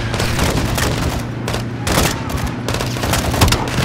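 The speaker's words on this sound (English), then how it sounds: "Gaz, hit him with the launcher!" Heavy gunfire and launcher blasts in a Call of Duty: Modern Warfare II firefight, several sharp loud bursts over continuous battle noise.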